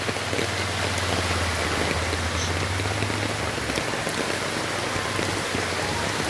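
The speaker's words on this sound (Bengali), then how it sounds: "আজ সকাল থেকে কিন্তু একটানা বৃষ্টি" Continuous heavy rain pours outdoors in Siliguri during days of nonstop downpour and waterlogging, a steady dense patter and wash of water with no pauses.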